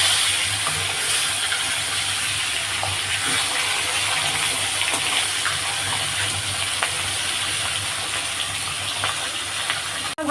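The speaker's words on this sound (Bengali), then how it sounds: "আর এক পিস উল্টিয়ে দিচ্ছি।" Rui fish fries in a pan of hot oil with a constant, loud, close sizzle and scattered small pops and ticks, ending in a brief knock.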